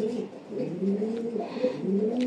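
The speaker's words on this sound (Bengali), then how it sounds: "এই যে নর কবুতরটা দেখেন ভিউয়ার্স" Club racing pigeons, including a male, coo in a soft, repeated, throaty rolling rhythm, close by and fairly quiet, with no talking.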